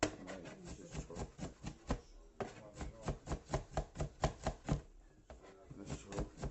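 A knife chops food on a board in a fast, even series of sharp, close knocks that pause briefly around the middle, with no talk over it.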